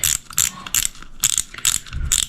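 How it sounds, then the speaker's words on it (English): Drag knob on a spinning fishing reel being unscrewed, a close, crisp series of ratcheting clicks in several quick bursts with short pauses between them. "I like to open my bail and just kind of unscrew the drag"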